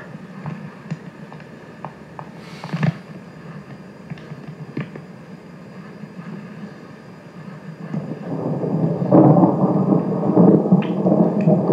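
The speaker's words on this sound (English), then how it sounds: "We're hearing thunder." Low thunder rumbles in the distance, swelling louder toward the end amid a steady patter of rain.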